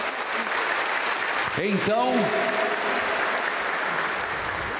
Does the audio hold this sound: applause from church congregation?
yes